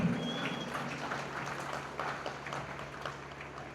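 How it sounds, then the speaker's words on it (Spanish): Scattered, fairly faint applause rises from an audience at an educational festival for a regional collective from Tuxtepec, uneven clapping with a low background hum beneath it. "Fuerte los aplausos para este colectivo"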